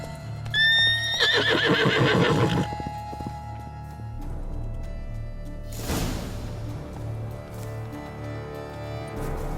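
A horse in The Witcher 3: Blood and Wine whinnies loudly and close, a shrill, falling neigh lasting about two seconds, followed by snorting and hoof shuffling over a steady ambient game hum.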